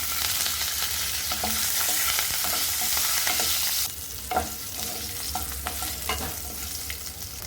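Shallots, curry leaves and asafoetida fry in hot oil for a tamarind kuzhambu, a loud dense sizzle that drops slightly partway, with scattered crackles and stirring knocks close by.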